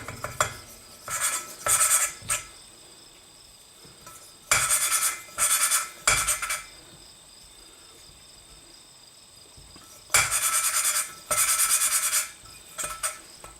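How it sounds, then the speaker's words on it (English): An engine valve on a 1975 Kawasaki Z1 900 is lapped onto its seat with grinding compound, giving repeated bursts of gritty rasping scrapes, each a second or so long in short groups, separated by pauses. "As long as you hear that noise, you know that your compound is getting on the seat."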